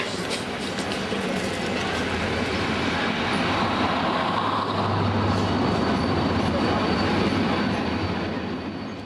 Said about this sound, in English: If you ever take the overnight sleeper from Cairo to Luxor, take it from me.